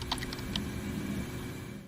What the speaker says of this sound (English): Something interesting is now you can hear typing from Aftony